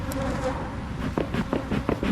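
Small hive of honey bees buzzing during a hive robbing, a steady close drone with several louder buzzes passing near the microphone in quick succession.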